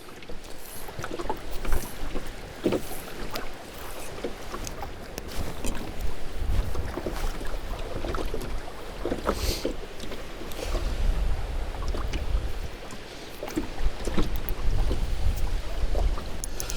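Steady wind gusting and buffeting outdoors at a reservoir during fly fishing, with low rumbling surges that swell and ease over the whole stretch, close to the microphone.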